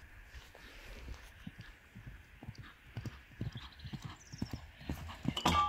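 Pony hooves clip-clop on ground during a jumping session, quick irregular footfalls growing louder and heavier toward the end, with a faint whinny and no talk.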